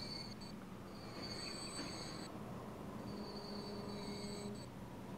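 A train rolls along steadily in the Transport Fever simulation game, a constant rumble of wheels on track with high metallic squeals rising and fading over it, no talking.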